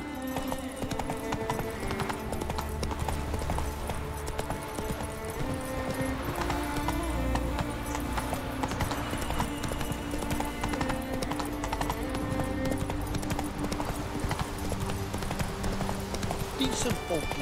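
Horse hooves clip-clop in a steady rhythm while riding in the video game The Witcher 3, with game music and ambient sound layered underneath throughout.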